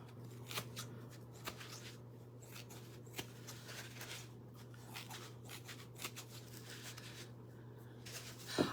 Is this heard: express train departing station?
no